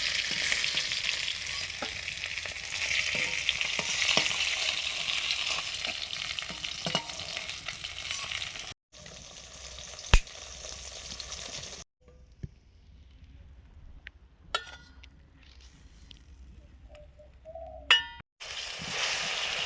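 Rui fish frying in hot oil gives a steady, close sizzle with occasional clinks of a utensil, then cuts to quieter stretches with brief stirring sounds.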